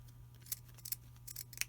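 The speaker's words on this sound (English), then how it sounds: "what you want to do is cut and cut on this side too." Scissors cutting paper for a smudging fan: a handful of faint, quick snipping clicks in an irregular rhythm over a low steady hum.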